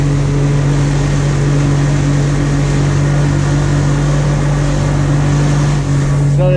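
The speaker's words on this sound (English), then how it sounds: "So they just heard the boat going by, which made them go down" A motorboat on a deep-sea trolling trip for skipjack tuna: a loud, steady engine drone with a constant humming tone that runs unbroken through the whole stretch.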